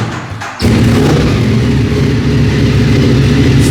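A heavy motorbike at a showroom, its battery weak from cold, fires up with a sudden thump and settles into a loud, steady, throaty idle that rumbles continuously with no voices over it.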